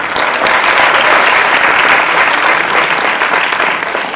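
A hall of college students claps loudly and continuously for several seconds, a thick, even roar of hands with a few crowd voices mixed in.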